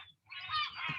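A single harsh, nasal herring gull call rings out briefly, a drawn-out squawking cry with a faint note before it.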